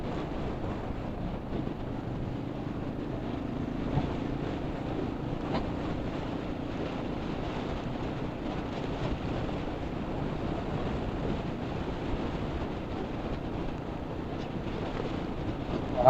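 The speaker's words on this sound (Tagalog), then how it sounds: "Lakas ng hangin." Strong wind by the sea at Macabebe, Pampanga buffets the microphone in a steady, dull roar for the whole stretch, with no talk over it.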